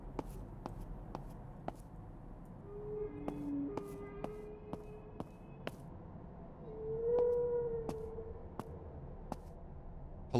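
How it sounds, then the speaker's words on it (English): Long, low wailing calls that resemble whale song drift through an eerie horror game demo, two drawn-out moaning tones rising and falling over a steady ambient hum punctuated by regular faint clicks. "I love the sounds because they almost sound like whales"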